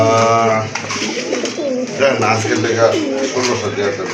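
Pigeons coo at a pigeon seller's stall, low repeated throaty calls running steadily under a man's close, continuous talking.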